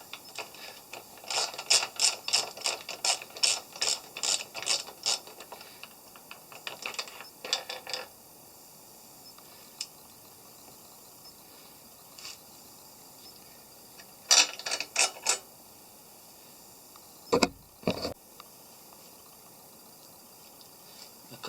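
A socket ratchet backs out 6mm Allen bolts on a Royal Enfield Meteor 350 motorcycle: bursts of rapid clicking pawl action, then pauses, a few short isolated clicks and one louder clunk near the end.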